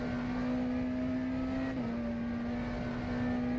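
McLaren Senna GTR race car engine at Sebring in the rFactor 2 racing game, a steady high-pitched engine drone holding one note with a brief dip before settling, with no talk.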